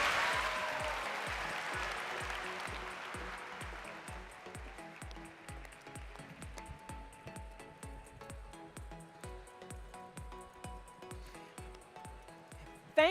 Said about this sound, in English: Can you please give them a big round of applause, everyone? Big round of applause.